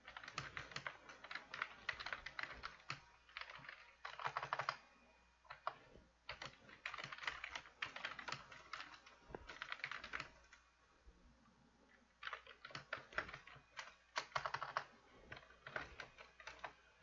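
Fingers typing on a computer keyboard at a home streaming setup, producing bursts of rapid, fairly close clicks separated by short pauses, repeated over and over with no talking.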